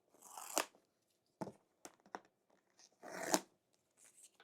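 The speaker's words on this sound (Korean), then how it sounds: "언박싱 해볼게요" Packaging of an 11-inch iPad Air M3 in Starlight being opened: several short bursts of tearing and crinkling cardboard and plastic, close and fairly quiet, separated by brief pauses with no talking.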